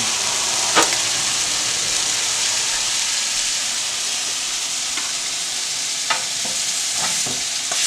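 Scallops sear in a hot pan, giving a loud, continuous sizzle with a few sharper crackles and pops scattered through, and no voices over it.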